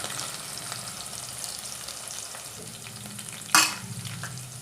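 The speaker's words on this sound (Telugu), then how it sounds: "ఆనియన్ని రెడ్గా ఫ్రై చేసుకోవాలా." Onions sizzle and fry in a pan with a steady crackling hiss, broken near the end by one sharper burst as they are stirred or more goes in.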